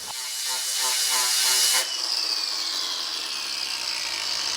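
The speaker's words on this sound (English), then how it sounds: "So that's a flat sander. I'm going to try and flatten those flanges out" A flat sander runs against welded clutch flanges, loud harsh abrasive buzzing for about two seconds before cutting off and leaving a fading whir.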